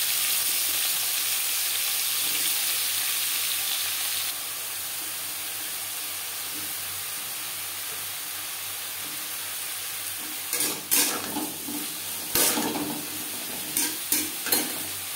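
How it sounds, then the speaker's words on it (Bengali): Eggplant frying in mustard oil in a pan, a close, steady sizzle that drops slightly in level partway through, then interrupted near the end by several sharp scraping and knocking stirs. "সবার প্রথমে আমি বেগুন ভেজে নেব। এর জন্য দিয়ে দিয়েছি 2 চামচ সরষের তেল।"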